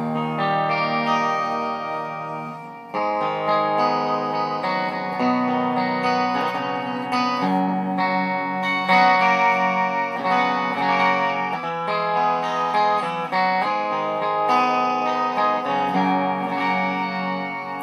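Electric guitar with P90 pickups played through a Behringer Ultra Shifter harmonist pedal on its shifter setting, chords ringing with a pitch-shifted, organ-like doubled tone, continuous and fairly loud with no talking.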